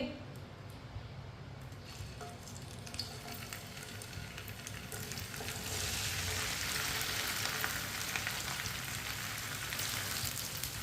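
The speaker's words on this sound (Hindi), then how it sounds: "ऑयल को अच्छी तरह गर्म कर लेंगे। कटी हुई भिंडी डाल लेंगे।" Cut okra frying in hot oil, a steady dense sizzle that swells louder partway through and continues without a break.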